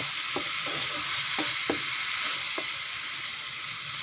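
Vegetables and chicken giblets stir-fry in a hot pan, with a steady broadband sizzle throughout and several sharp scraping clicks of a spatula against the pan at irregular intervals, close and clear with no talking.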